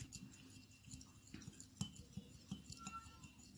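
A spoon stirs lemon juice and spices in a glass, giving faint, scattered clinks against the glass over a quiet background.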